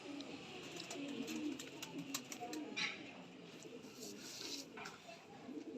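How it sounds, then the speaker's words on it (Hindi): Pigeons coo softly amid a steady wash of outdoor background noise, with faint chirps and murmurs of distant voices underneath. "बहुत अक्लमंद कबूतर है"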